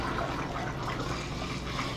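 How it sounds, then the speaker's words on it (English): Liquid pours steadily through a funnel into a Mr. Beer brewing keg, a continuous close watery rush with no talking. "you don't have to use a funnel if you think you're good enough to pour it in there"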